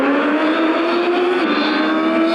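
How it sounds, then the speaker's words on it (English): A race car accelerating hard out of the final corner onto the straight, a loud sustained engine drone with steady rising pitch, close and continuous with no talk. "Rounding the final corner before getting on the throttle to get a good running start at the next flying lap."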